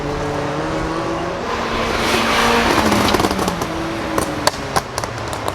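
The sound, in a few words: 2014 Ford Focus race car on a track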